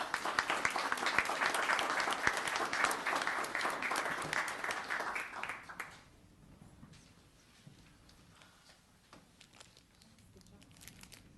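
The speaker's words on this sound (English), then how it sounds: "Let's give her a round of applause" Loud, dense applause from an audience at a study session meeting fills the first six seconds, then drops to scattered faint clapping and quiet room noise.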